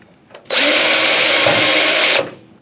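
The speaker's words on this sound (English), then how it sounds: "This will be drilled into the ballast compartment cover using a half-inch drill bit." A power drill with a half-inch bit bores a hole through the ballast compartment cover of a light fixture for a Fulham HotSpot1 LED emergency kit. It runs as one loud, steady whine for nearly two seconds with no talk.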